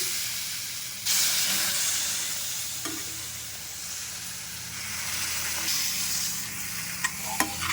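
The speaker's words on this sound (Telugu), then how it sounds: "ఈ వేడి నీళ్ళు పోసుకుంటూ కలుపుకోవాలి కొద్ది కొద్దిగా, ఇట్లా ఇదే మాదిరిగా." Steady sizzle and hiss from a hot pan of semolina with soft stirring scrapes, swelling as hot water is added, plus a few small clicks near the end.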